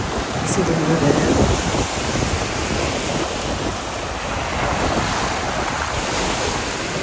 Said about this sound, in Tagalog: So mas malakas lang yung alon dito compared sa kabilang side ng Boracay Island.